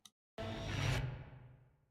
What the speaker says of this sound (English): But here comes the missile.